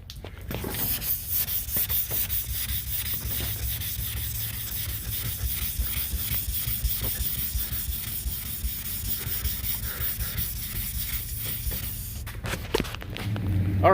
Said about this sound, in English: we're wet sanding all that stuff out, and it's just slick as glass.